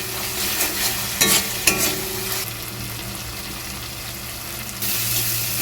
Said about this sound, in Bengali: মশলাটা আমি কিন্তু বেশ খানিকটা সময় ধরে কষিয়ে নিয়েছি